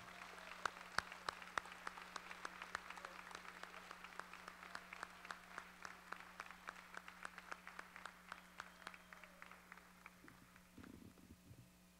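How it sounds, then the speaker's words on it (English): Faint applause from family and friends at a school National Signing Day event, a steady patter of clapping that gradually thins out and fades toward the end. "let's give them a big round of applause"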